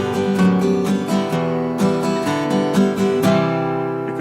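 An acoustic guitar plays a variation on a song's descending bass line, several steady strummed chords with shifting low notes, close and unaccompanied over about four seconds.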